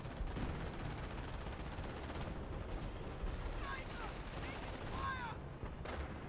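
Dense battlefield gunfire in a Company of Heroes 2v2 tournament match, a steady wash of rapid shots and distant blasts under continuous commentary, with a few sharp whistling effects near the end.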